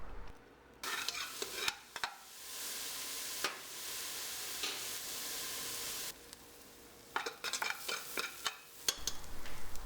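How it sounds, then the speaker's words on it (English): Onions, garlic and chilies fry in hot oil with a fairly soft, close sizzle that rises in long hissing stretches, broken by quick clusters of stirring clatter and scraping, with no voices. "heat the oil and cook the onions, the garlic, and the chilies until they are browned"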